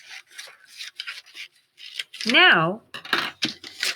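Scissors cut a paper book cover out of a packet in a few short snipping and rustling bursts, close and fairly loud, with a brief word spoken partway through.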